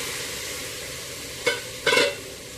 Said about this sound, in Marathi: आता आपण त्यामध्ये मटण घालून घेऊया।